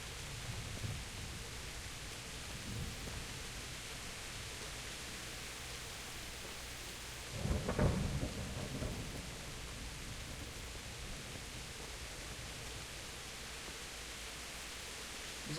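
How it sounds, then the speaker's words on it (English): Steady rain falls throughout a night scene in the video game Kingdom Come: Deliverance, with a single low rumble of thunder rolling in around the middle before the downpour continues alone. "It's raining."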